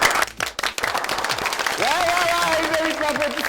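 A studio audience on a quiz show applauds, with a crowd clapping steadily under a voice.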